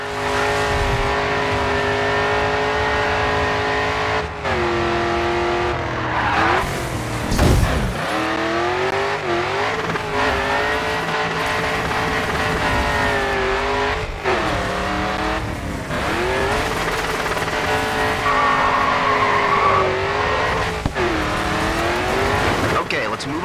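A race car in the GRID 2 video game revs hard and drifts through turns, engine pitch rising and falling through gear changes with tire squeal, loud and continuous, while a voice narrates over it.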